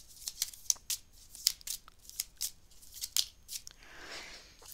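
Tarot cards are drawn and laid down on a table in a quick series of close, crisp flicks and soft slaps. A longer sliding rustle near the end places one card over another.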